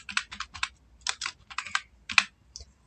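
A website name being typed on a computer keyboard: quick, close clusters of crisp keystrokes arrive in several bursts with short pauses between them, and no one speaks.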